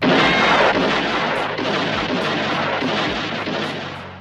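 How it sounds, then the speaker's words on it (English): Gunfire from bandits shooting at a fleeing boy in the opening scene of the spaghetti western A Fistful of Dollars, a loud, sustained dense roar of overlapping shots and blasts with no speech. "The movie opens with a couple of bandits firing their guns at a little boy as he flees in terror."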